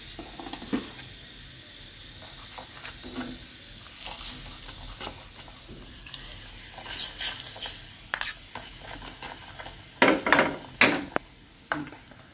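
Garlic tempering is stirred into a Maggi masala with a soft, steady sizzle, broken by scraping strokes of the spoon and a few sharper clinks against the pan, the loudest near the end.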